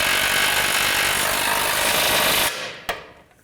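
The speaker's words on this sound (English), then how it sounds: "I'll put the 18mm wrench on the nut right here, and then tighten this bolt" An 18mm wrench tightens a bolt on the front lower control arm of a 2013-17 Nissan Sentra, giving a loud, steady, harsh whirring burst for about two and a half seconds that cuts off abruptly, then one sharp click before quiet.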